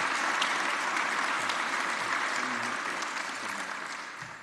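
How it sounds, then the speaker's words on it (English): Live audience at a candidate debate forum applauding, a dense, steady round of clapping that fades slightly toward the end. "Can I get all of you here in our live audience to give them a round of applause"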